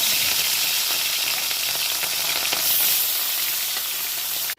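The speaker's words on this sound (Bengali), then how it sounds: "এবার আমি সর্ষের তেল দিয়ে দেবো মাছটা ভেজে নেব" Loud, steady sizzling and crackle of fish frying in hot mustard oil, close by and continuous, cutting off abruptly at the end.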